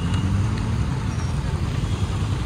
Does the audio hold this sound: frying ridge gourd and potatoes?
no